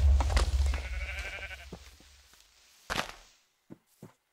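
A Minecraft Hexxit sheep lets out a wavering bleat early on, mixed with thumping game footsteps and clicks that thin out into sparse, quieter taps.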